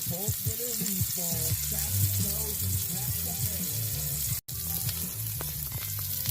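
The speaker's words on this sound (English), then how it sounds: "I am probably about 15 seconds into searing the tuna" Tuna sears in a smoking pan inside a campervan, giving a loud, continuous crackling sizzle close by while a voice talks over it; the sound cuts out briefly near the middle.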